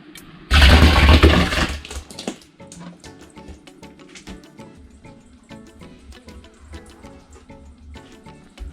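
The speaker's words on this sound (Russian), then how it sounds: "Вот такой вот у меня миксер. Ну, в принципе, я вам скажу, нормально так измельчает, нормально мнет." A handheld mixer crushes grapes in a barrel to make homemade wine. A loud, wet, churning burst lasts about two seconds, followed by quieter splashing and clattering.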